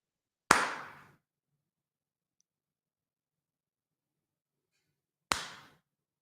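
Two sharp hand claps spaced several seconds apart, each a crisp close transient with a short decaying tail, separated by near silence in a quiet room.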